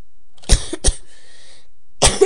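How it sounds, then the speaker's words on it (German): A person coughs, first two harsh coughs in quick succession, then after a short quiet gap a third rough cough with a throat-clearing edge, close and dry. "Und ich habe das Husten leider immer noch."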